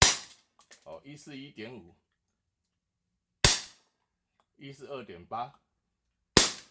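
An ARES S&W M686 4-inch CO2 revolver air pistol fires two sharp, loud cracks about three seconds apart, each following someone speaking between shots.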